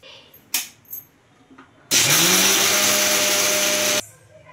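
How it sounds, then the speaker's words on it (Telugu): A kitchen mixer grinder whirs loudly as it grinds coconut chutney with salt and water for bottle gourd punugulu, a steady two-second burst after a few faint clicks and knocks, then cuts off. "దీన్ని గ్రైండ్ చేసుకోవాలి."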